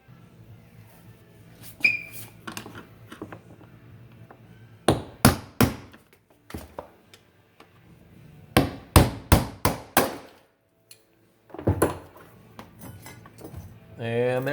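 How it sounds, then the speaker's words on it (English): A small chisel struck with a hammer to tap loose the fuel pump lock ring on a 2009 Tahoe, giving sharp metallic clinks in clustered bursts of several quick blows with pauses between, close and bright. "I'm going to take this little chisel and a hammer and just kind of tap it off real gently"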